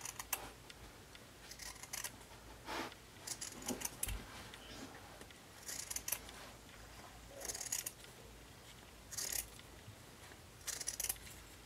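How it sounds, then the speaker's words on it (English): Scissors snipping through felt in short bursts of crisp cutting, separated by quiet pauses, close and soft. "take your scissors and just cut about an inch down"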